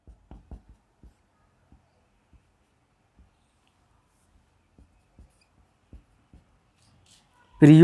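Chalk taps and strokes on a board during a biology lesson, a series of sparse faint scratches spread through near silence, ending with a voice starting to speak.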